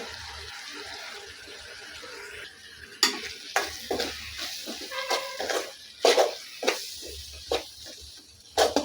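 Spice powders stirred into a potato chicken curry in a pan over low flame: repeated scraping strokes of a spoon against the pan over a soft sizzle, growing louder and more rhythmic.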